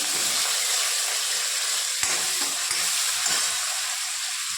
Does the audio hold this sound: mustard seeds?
yes